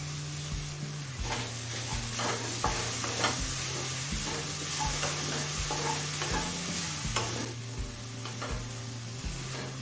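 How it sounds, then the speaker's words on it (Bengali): Spring onion and broccoli frying in a pan for a vegetable oats dish, with a continuous sizzle and rhythmic clicking spatula strokes repeating throughout, close and alone. "স্প্রিং অনিয়ন দিয়ে আরো মিনিট 2 ভেজে নিয়েছি"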